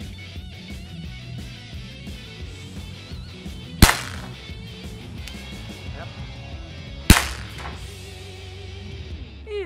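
Two sharp, loud cracks from a Hatsan Air Jet 1 PCP air pistol firing at brick pieces, spaced a few seconds apart over background music and voices.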